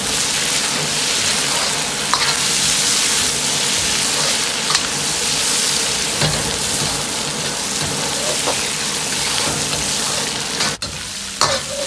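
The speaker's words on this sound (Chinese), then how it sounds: "下入控干水分的香料，继续翻炒均匀，炒出香料里边多余的水分" Drained spices stir-fried in a wok while cooking beer duck, a loud continuous sizzle with scraping stirs and occasional sharper clicks of the spatula, ending with a short clatter.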